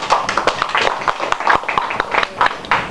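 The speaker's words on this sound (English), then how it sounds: "It's now my pleasure to declare this Toastmaster installed to the office to which they had been elected and give them a big applause." A room of members and friends at a Toastmasters officer installation applaud together, a dense patter of hand claps that stays fairly even for a few seconds with no talking over it.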